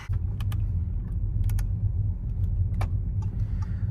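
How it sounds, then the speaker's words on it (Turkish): A car with a 1.0 litre engine idles just after starting, a steady low rumble heard from inside the cabin with a few light clicks and knocks on top. Nobody speaks. "Arabayı çalıştırdık."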